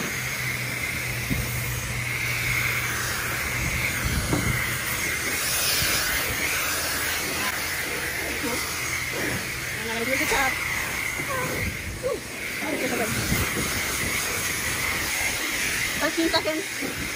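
Steady hiss of a high-pressure spray wand rinsing a car at a self-service car wash in Flagler Beach, Florida, running continuously under occasional nearby talk.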